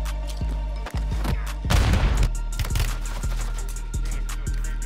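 Gunshots on Rebirth Island in Call of Duty ring out as a series of sharp, punchy reports with booming low thumps. They come irregularly at close range, and one heavier blast with a rumbling tail lands partway through.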